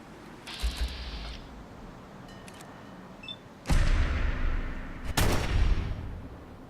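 An M1 Garand rifle fires in a modded Fallout 4 game: a sharp shot early on, then two heavier booming shots later that ring out and decay, with no talk.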